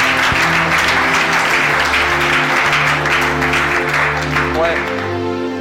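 Church congregation applauding loudly and continuously, with voices and sustained musical tones mixed in beneath the clapping.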